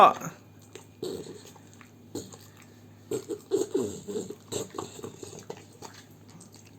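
An American Bully dog chews food up close, with wet, irregular chomping bursts that grow busier in the second half while someone talks nearby.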